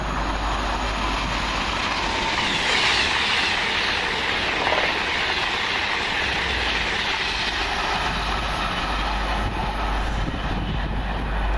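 Train passing at Cheddington on a London Euston to Edinburgh Waverley service, a steady, loud, sustained roar and rumble that holds constant throughout, with no voices.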